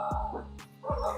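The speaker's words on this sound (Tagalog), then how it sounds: "Ano ba yung aso dito?" A dog barks twice close by, two short sharp woofs with a brief pause between them and no talking over them.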